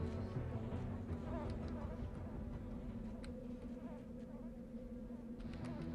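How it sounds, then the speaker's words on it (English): Steady insect buzzing from a wasp in the EverQuest game world, a continuous droning hum that holds at an even level throughout with no gaps. "so it's a wasp, another wasp"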